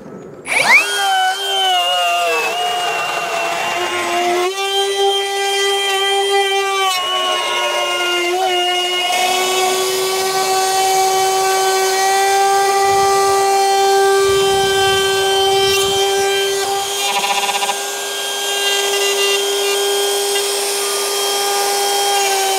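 A Hikoki battery half-inch router cuts a worktop joint with a sustained, loud high-pitched whine full of steady tonal harmonics, running close by throughout with slight changes in pitch as it moves through the material.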